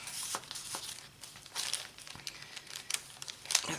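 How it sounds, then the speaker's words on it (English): A paper bag and extra paper are handled and crinkled up close, giving soft irregular rustles and sharper crackles with no talking. "Another paper bag, and this is just some extra paper."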